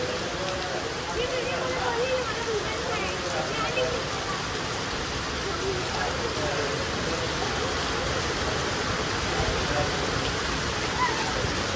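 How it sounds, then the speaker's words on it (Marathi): Heavy rain pours in a dense, steady hiss with no letup, while muffled voices sound faintly beneath the downpour. "पाऊस खूप म्हणजे खूप जोरात पडतो आहे"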